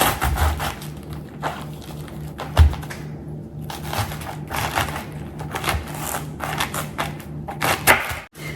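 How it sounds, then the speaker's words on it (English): A knife cuts a whole cabbage in half on a cutting board, a series of close, crunchy cracks and thuds with a sharp chop near the start and another partway through, no voices. "the first thing I'm going to do is cut my cabbage in half"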